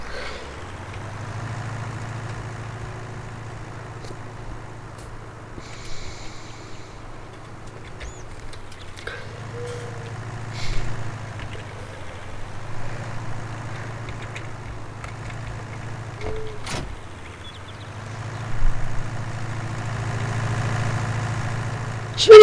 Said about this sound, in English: take this tractor here and move this header